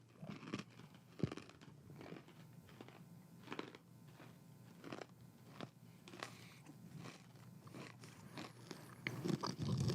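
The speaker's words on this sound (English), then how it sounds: "This is going to be crunchy, so we're going to both move our mics away" Close, crisp crunching bites of pretzel pieces repeat irregularly for several seconds, sharp snaps amid steady chewing noises, with no talking.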